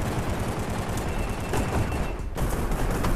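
Gunfire in the video game Gun Raiders, a dense continuous rattle of rapid shots filling the whole stretch at steady loudness, with no pause and no talk over it.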